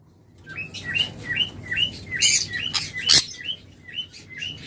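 A pair of tame lovebirds, double red factor birds, give a rapid series of bright, repeated chirps at close range, with a few sharper, louder calls mixed among the steady pattern.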